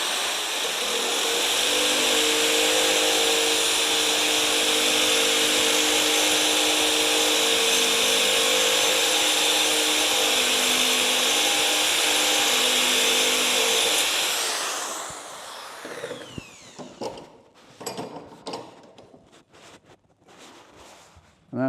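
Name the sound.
rotary mower blade sharpened on grinding wheel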